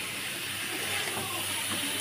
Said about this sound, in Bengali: মশলাটার সঙ্গে এবার চিচিঙ্গাগুলোকে আমি ভালো করে এভাবে কষিয়ে নেব।